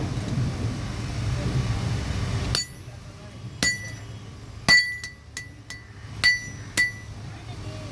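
Metal hammers being forged by hand, heard first as a stretch of dense workshop noise, then as six or seven sharp, ringing strikes on metal at irregular intervals, close and distinct.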